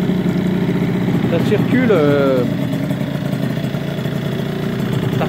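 A Gilera DNA scooter with a 77cc Barikit big bore kit and Giannelli exhaust idles with a steady buzzing putter, a short throttle blip rising briefly, while someone speaks in French nearby.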